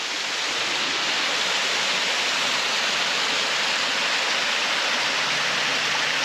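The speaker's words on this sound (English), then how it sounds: "Beautiful little waterfalls everywhere." Small waterfalls pour down hillside washes near Harrison Lake, a dense, constant roaring hiss of falling water, close and steady from start to finish with no other sounds.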